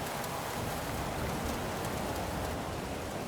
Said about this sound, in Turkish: Hava yağmurlu.